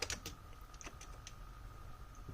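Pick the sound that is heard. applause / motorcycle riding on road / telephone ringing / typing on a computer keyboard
typing on a computer keyboard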